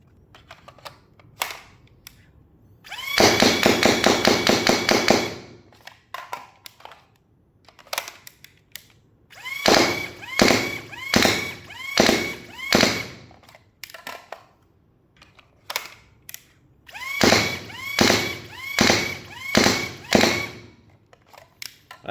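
An AIT Lightning Blaster toy dart blaster fires darts in rapid motorized bursts, a long sustained volley followed by several shorter rhythmic clusters of sharp whirring shots, with brief quiet pauses between them.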